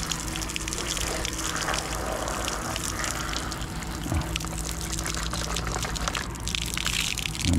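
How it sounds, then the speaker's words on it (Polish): Beach shower tap running at a seaside beach in Castellón, pouring water to rinse a shoe, a steady close gush with a faint pump-like hum underneath, and no talking. "Tylko najpierw buta chyba trzeba umyć"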